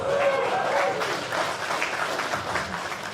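Audience applause at a stand-up comedy show, a spread of clapping from the crowd that runs the whole stretch at moderate loudness, with some murmuring voices mixed in early.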